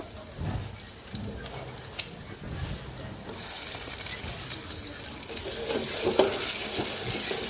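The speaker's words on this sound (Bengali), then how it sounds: "এখন আমি কলিজাটা ভুনা করবো যে সেটার জন্য পেঁয়াজ আর তেল দিলাম" Sliced onions fry in oil in a pan as the base for a liver bhuna. A soft crackle builds into a louder, steady sizzle partway through.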